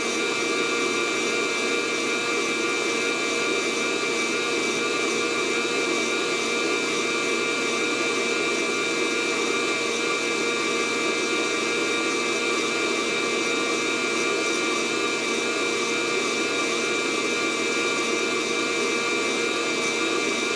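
A Fresh Roast SR 800 coffee roaster runs with a steady, loud whooshing blower roar and a faint whine, unbroken and constant throughout with no talking.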